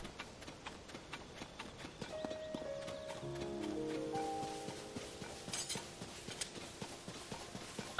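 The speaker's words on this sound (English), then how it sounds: "More wild horses." Hooves clip-clop rhythmically in the Tears of the Kingdom video game, with a horse's neigh and in-game musical chimes rising in the middle, moderately quiet and without speech.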